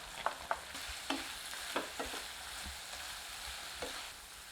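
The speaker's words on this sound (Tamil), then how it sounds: "இப்போ மசாலா பொடியை கலந்துக்கலாம்" Masala powder is stirred into chicken frying in a pan, a quiet sizzle broken by several distinct spoon scrapes and taps, close by and with no voices.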